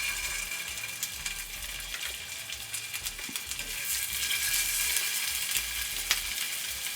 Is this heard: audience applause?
no